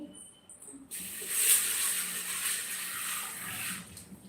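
After a brief quiet moment, water starts pouring into lentils for cooking in a steady, close stream that runs for a few seconds before thinning out.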